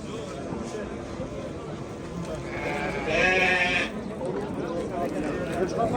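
Sheep bleat at a busy livestock market, with one loud, quavering bleat standing out midway over a steady crowd murmur and nearby voices talking.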